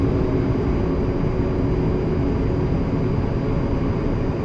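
A-10C jet taxiing in DCS World, a steady engine drone and low rumble holding constant throughout with no voices over it.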